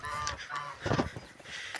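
Geese honk outside near a backyard poultry yard, several loud nasal calls overlapping close by in a short burst.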